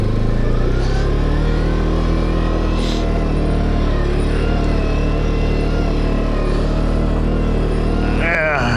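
Off-road vehicle engine droning low and steady on an Arizona OHV trail while shifting into four-wheel drive low range, a loud rumbling idle with rising pitch early on and a person talking over it.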